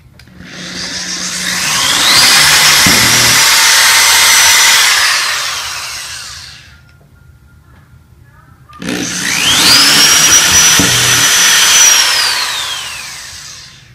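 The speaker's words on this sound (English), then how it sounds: "then we're gonna go in with a bigger drill and drill it to size." A power drill bores holes to size in wood for a marquee lights headboard, running in two long, loud, whining bursts with a short pause between them.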